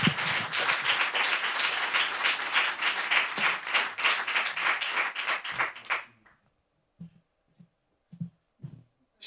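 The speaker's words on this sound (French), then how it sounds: "Applaudissements, s'il vous plaît" Audience applause for a singer at a French concert or ceremony, a loud sustained roar of clapping for about six seconds that stops abruptly, followed by a few faint isolated sounds.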